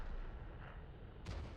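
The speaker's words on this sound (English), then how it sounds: "now he's just getting shot in the face by an autoloader" Tank cannon fire in a competitive online tank battle featuring autoloader tanks: a single short, muffled boom near the end over a constant low rumble of game noise.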